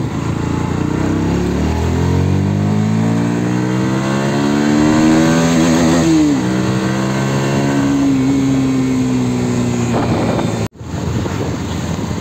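A motorcycle engine revs loudly in an echoing space. The tone climbs, holds and falls again over about ten seconds before cutting off abruptly.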